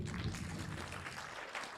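Audience applause at an investment summit, a steady patter of clapping from a crowd that holds at moderate level for under two seconds with no voices over it.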